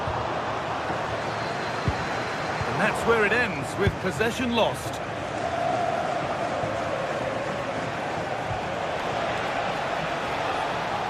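Steady roar of a stadium crowd in a football video game, a dense continuous wash of noise swelling slightly, under a commentator's voice.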